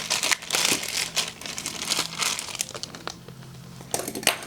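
Crisp crinkling and snipping of plastic or paper being cut with small Victorinox scissors from a Super Tinker pocket knife, a close run of rustly cuts and crunches with short pauses.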